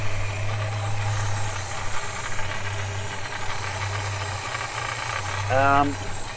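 A Holden HK car engine, freshly installed, idles steadily with a low continuous hum and light rattle, close and fairly loud, with a brief rising whine near the end.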